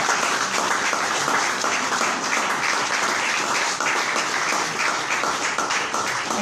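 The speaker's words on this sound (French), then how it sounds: "Applaudissons le Seigneur." A church congregation applauds during a worship service, loud and sustained, with continuous dense clapping from many hands and no break across the whole stretch.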